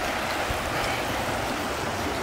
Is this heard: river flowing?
yes